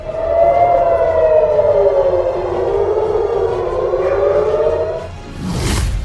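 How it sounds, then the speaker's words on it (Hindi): Loud, continuous air raid sirens in Israel during a Hamas rocket attack wail up and down in long sweeping tones, filling the air before a sudden burst of noise near the end. "हर तरफ सायरन बज रहे हैं।"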